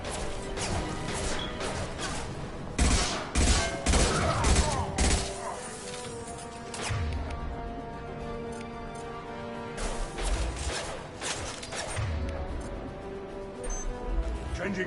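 Weapons fire in a video game in loud, clustered volleys of crashing shots with impacts, separated by quieter stretches of rumbling background, and voices come in briefly between the bursts.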